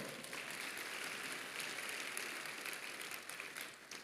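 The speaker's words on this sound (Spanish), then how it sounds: "Dale un aplauso al Señor." Applause from a church congregation, a steady dense wash of clapping filling the room without a break.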